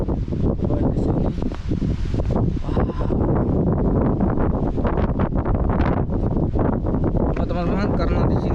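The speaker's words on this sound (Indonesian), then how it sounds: "karena di sini angin kencang ya kan, angin kencang" Strong wind buffets the microphone with heavy, continuous rumbling gusts for the whole stretch, loud and close, while a person speaks underneath.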